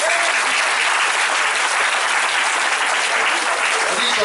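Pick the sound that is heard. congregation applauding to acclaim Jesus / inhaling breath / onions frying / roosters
congregation applauding to acclaim Jesus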